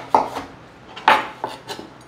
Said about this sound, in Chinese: 把南瓜切一半